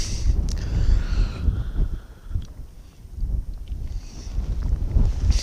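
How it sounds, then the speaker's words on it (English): Steady wind buffeting a microphone outdoors at night on a Munro summit, a low rumbling roar that swells and eases in gusts, with a faint hiss on top. "It's been a bit windy tonight"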